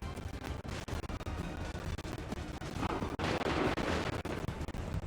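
Musket volley fire from soldiers in Assassin's Creed 3, a dense, continuous crackle of gunfire and booms filling the scene, with a heavier burst of shots near the end.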